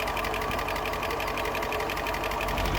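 A 1972 Range Rover engine idling roughly and low, a continuous close mechanical chatter with a fast even ticking rhythm and steady loudness.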